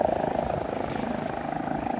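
A helicopter flies near a ski lift station in Zermatt, its steady rotor thump continuous and fairly loud throughout with no talk over it.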